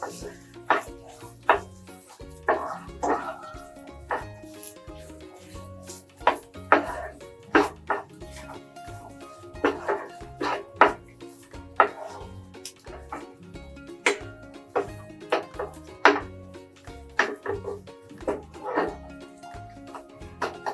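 Ground coriander and spices being stirred together in a bowl for a cheese chicken keema roll filling, a steady run of soft scraping clinks and taps repeating through the stretch, moderately close, with faint kitchen background and no speech.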